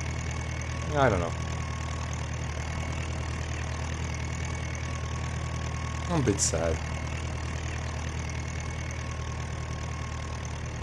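A tractor engine idles in the Farming Simulator 19 game on The Great Plateaus map, a steady low drone running under the whole stretch while a person speaks briefly over it.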